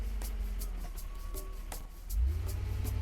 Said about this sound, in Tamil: வண்டி எடு.